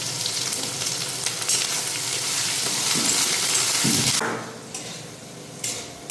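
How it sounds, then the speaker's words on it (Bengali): Chopped tomatoes and onions sizzle loudly in a hot pan with stirring scrapes, then the frying quiets abruptly and continues more softly, with an occasional clink. "পেঁয়াজটা হালকা ভাজা হয়ে গেছে এই সময় আমি কেটে রাখা টমেটোগুলো দিয়ে দিলাম"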